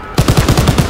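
Rapid automatic gunfire in Call of Duty: WW2, a close, loud burst of about seven evenly spaced shots firing in a fast steady rhythm.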